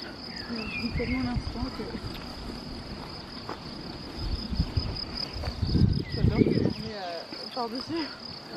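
Bees buzz around a hive outdoors in the countryside, a faint, irregular droning with a steady high insect whine beneath, while people talk quietly nearby and there are occasional rustling bursts.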